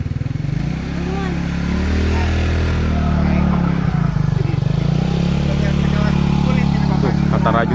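Motorcycles ride past a lone house in the forest, a close engine drone rising and falling in pitch as they go by, with a person talking over the passing motors.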